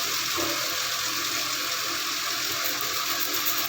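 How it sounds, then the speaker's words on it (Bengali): Water pours steadily into a pan of potol (pointed gourd) curry, a close, continuous rushing splash that holds at an even level throughout, with no speech. "এবার আমি একটু জল দিচ্ছি"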